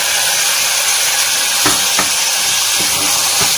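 Two chopped medium tomatoes hit a hot pan with garlic and ginger, giving a loud, continuous sizzling hiss close up, broken by a few soft stirring knocks.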